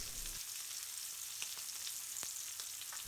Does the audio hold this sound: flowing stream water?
no